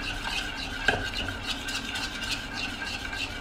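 Chocolate and peanut butter fat bomb mixture being stirred in a pan over heat, a steady scraping swirl with a faint sizzle and one sharp utensil clink, close and continuous with no talk.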